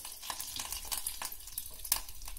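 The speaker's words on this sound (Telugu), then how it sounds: "కరివేపాకు పోపు దినుసులు అన్ని వేసి తిరగమాత పెట్టిన తర్వాత" Spices and curry leaves sputter and fry in hot oil for a tempering, a close continuous sizzle broken by sharp scrapes and clatters of stirring in the pan, with no voices.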